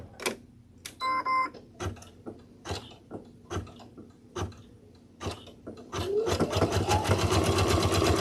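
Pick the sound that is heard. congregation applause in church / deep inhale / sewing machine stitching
sewing machine stitching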